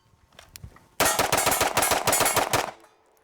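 A fast string of about a dozen pistol shots from a 2011 handgun cracks out in under two seconds, loud and close with ringing reverberation, preceded by a few faint clicks and ending abruptly.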